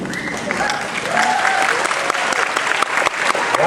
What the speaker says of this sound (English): Why are you guys applauding?